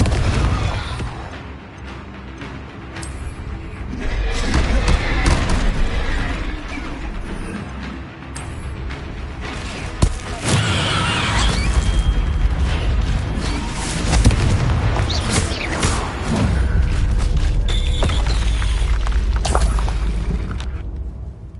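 In Hogwarts Legacy, Confringo fire spells explode in a long run of heavy booms and bursts. The deep blasts repeat throughout, loud and close, layered over rumbling combat noise with no voices.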